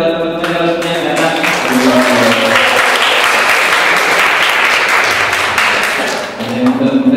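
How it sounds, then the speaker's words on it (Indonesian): An audience at a talk event in a Yogyakarta hostel breaks into dense, loud applause that follows a voice and holds steady for several seconds before tapering off. "Tepuk tangan buat teman-teman Colorful yang datang."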